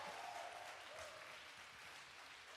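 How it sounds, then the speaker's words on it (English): An audience at a women's poetry slam gives steady, continuous applause, a quiet but even wash of many hands clapping with no voices standing out. "Give her a round of applause and keep clapping until she gets to the mic."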